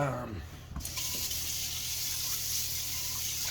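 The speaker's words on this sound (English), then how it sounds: "So, wash your hands." Tap water runs steadily into a kitchen sink during handwashing, a constant broadband hiss that starts after a brief pause and continues close and even to the end.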